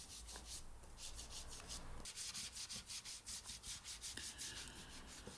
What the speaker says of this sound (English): more sanding, just de-nibbing everything, getting it just, so there's no sharp bits.